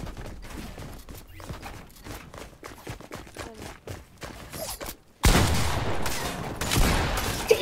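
Gunfire in an online battle-arena video game crackles as a series of sharp, rapid distant shots, then gives way to a louder, denser burst of fire and rumbling.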